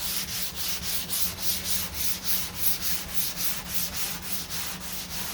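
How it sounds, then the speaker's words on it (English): Steady rhythmic strokes of wet sanding on the hood of a 1969 Corvette C3, a soft repeated rubbing swish at close range, continuous and even with no talking. "when you wet sand, it kind of creates like a little suction"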